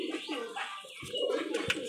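Pet pigeons, including a dobaj pigeon, cooing softly in a close sequence of low murmuring calls, with a couple of brief sharper sounds near the end.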